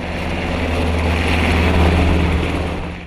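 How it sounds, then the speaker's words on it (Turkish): A helicopter lands on the navy frigate Oruç Reis during an exercise near Gölcük, with a loud, steady rotor and engine roar and strong low hum. "Bir helikopter Barbaros gemisinden kalkış yaparak Oruç Reis Fırkateyni'ne indi."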